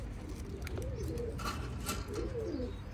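Oman Teddy pigeons coo in a series of soft, low, rolling calls close by, steady over a faint background hum with no talk.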